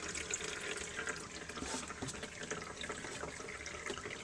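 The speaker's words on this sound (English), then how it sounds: "You hear the water going into the jug." Water pours from a 1954 Eljer Waco toilet into a jug, a steady close splashing and trickling stream that runs continuously without pause.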